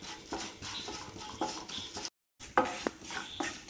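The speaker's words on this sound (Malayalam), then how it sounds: "ഒരു പാനിലേക്ക് 1 ടേബിൾ സ്പൂൺ നെയ്യ് ഒഴിച്ചു കൊടുക്കാം. ഒരു ടേബിൾ സ്പൂൺ എള്ളാണ്." Sesame seeds roasting in a tablespoon of ghee in a pan, with soft crackling and the scrape and clink of stirring against metal, broken by a brief silent gap before sharper stirring clicks return.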